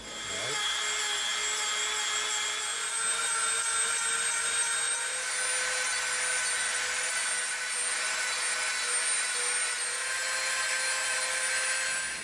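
A Dremel rotary tool grinding EVA foam for a prop blunderbuss, a sustained high-pitched whine held steadily at close range for several seconds with no talking.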